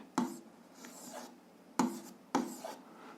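Scratchy strokes of writing an answer to a physics problem, soft and close, with three sharp taps marking the start of each stroke, no voices present.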